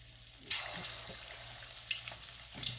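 Chicken gola kababs dropped into hot oil, bursting into a loud crackling sizzle that continues with popping spatters, no voices present.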